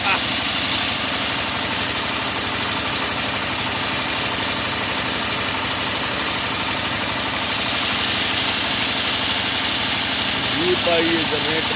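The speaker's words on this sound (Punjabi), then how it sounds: "ਇਹ ਜਨਰੇਟਰ" A steady generator engine drones continuously nearby, a constant mechanical rumble with a faint vibrating hum throughout.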